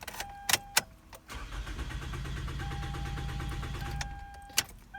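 A 2007 Toyota Camry engine cranks steadily for about three seconds without catching, a rapid rhythmic churning, with key and switch clicks before and after; close and fairly quiet, no talk.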